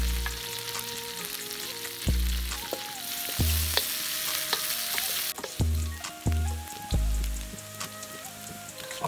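Onions frying in a pan for a homemade chicken curry: a continuous close sizzle with bursts of stirring and scraping, and occasional clicks of a spoon against the pan.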